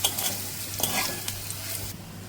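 Curry leaves hit hot oil tempered for Bengali-style poha, bursting into a crackling sizzle with spattering pops and stirring, then the hiss drops away toward the end.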